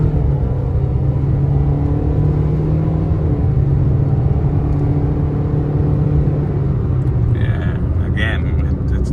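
A 2012 Scion iQ driving in regular drive mode, its engine a steady low hum with road rumble running throughout at close range, and a few faint higher noises near the end.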